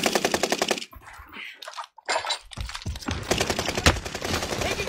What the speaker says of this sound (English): I got shot from behind you, run.